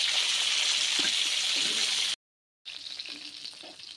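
Pieces of rui fish, turned over, fry in hot oil with a steady, close, bright sizzle that breaks off in a brief silence and then resumes, with faint scraping underneath.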